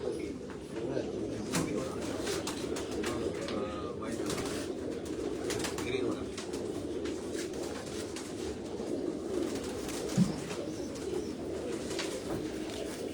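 Sialkoti pigeons on a rooftop coo in a steady, continuous low murmur, with several birds overlapping close by and a brief louder note near the end; someone speaks faintly at times beneath it.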